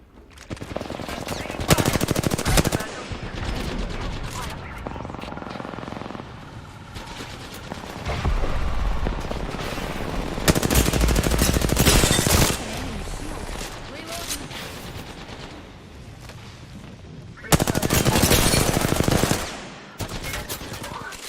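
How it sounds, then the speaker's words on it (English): Heavy gunfire from Apex Legends arena combat rattles in loud sustained automatic bursts with a few pauses, dense and close throughout, while a player talks over it. "They're shooting at me."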